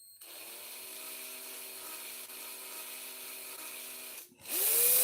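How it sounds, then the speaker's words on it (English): Electric drill spinning an axle held in its chuck, a steady whining motor tone that runs for about four seconds, then briefly drops off before revving back up louder. "Make sure you check when you load it into the drill that it spins true and straight"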